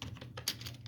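Rapid, soft keystrokes on a computer keyboard while entering text in Microsoft Excel, a continuous light patter of clicks with a faint low hum underneath.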